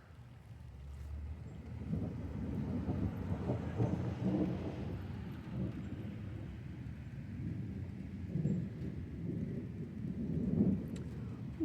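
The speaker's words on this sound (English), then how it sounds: "No, give me the storm, not the bright sun." A thunderstorm rumbles with low, rolling thunder over steady rain and some wind, carrying on continuously at moderate loudness with no talking.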